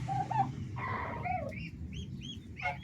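High, thin peeping calls from young chicks repeat in quick bursts over a low background murmur.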